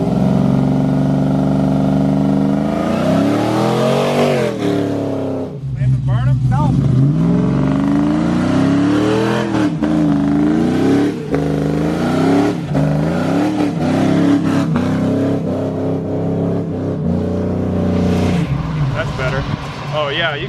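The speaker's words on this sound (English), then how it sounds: "waiting on him to find a spot to do a burnout real quick" A car doing a burnout, its engine revving hard in repeated rising and falling surges, loud and close, with people talking over it.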